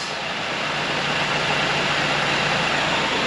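Supercharged Toyota 3RZ four-cylinder idling in a 4x4 Toyota Sunrader motorhome, a steady, close and fairly loud engine drone with a low hum and no variation in pace, heard alone without any talking.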